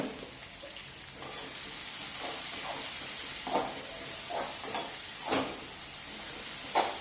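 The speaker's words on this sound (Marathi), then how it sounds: "तुम्ही तीन मिनिटे या भाज्या आपण छान अशा परतून घेतलेल्या आहेत" Vegetables for veg hakka noodles stir-frying in a pan over a full gas flame: a constant close hiss and sizzle, broken by repeated scraping pushes of the spatula.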